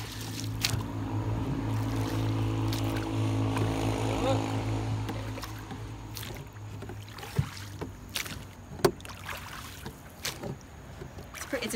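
A small dinghy is rowed across calm water, with oars splashing and knocking in uneven strokes up close and a low rumble in the first half, while people talk.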